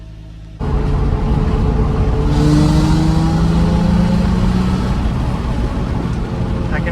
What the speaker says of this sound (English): I can actually hear much more engine and intake noise than I could before.